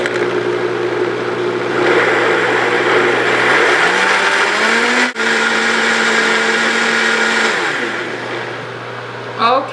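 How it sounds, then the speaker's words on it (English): A Vitamix blender whirs loud and steady, pureeing a raw corn tortilla mixture. The motor pitch rises midway, holds, then drops back near the end with a short bump as it stops. "So now I am going to blend this in the Vitamix, and let's hope that it blends up okay."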